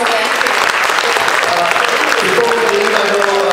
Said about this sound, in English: And just a round of applause again.